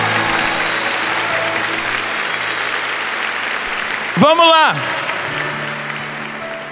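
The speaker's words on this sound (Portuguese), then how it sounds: "Então aplauda o cumprimento da promessa na vida desse irmão." A church congregation applauds steadily at moderate loudness, a broad wash of clapping with a brief voice rising above it partway through before the clapping carries on.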